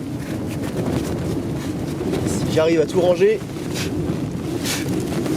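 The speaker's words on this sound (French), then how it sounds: "C'est un vent du sud." A strong south wind blows on the coast, roaring steadily and buffeting the microphone, with boat or rigging sounds mixed in while someone speaks briefly over it.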